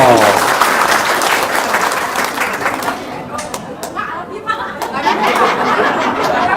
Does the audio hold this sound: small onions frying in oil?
no